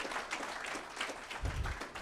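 An audience at a biology event gives steady, distant applause for the Thomas J. Blocker Society board members, sounding faint and even throughout.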